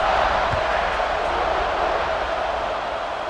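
A stadium crowd in the EA Sports College Football 26 video game keeps up a steady, broad buzzing roar after a Georgia-Ohio State score, loud and continuous throughout with no break.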